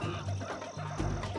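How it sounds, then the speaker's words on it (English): Short clucking from a chicken in the Populous: The Beginning strategy game, a few close, choppy bird calls over a dense background hum. "Is that a devil chicken with fire hands?"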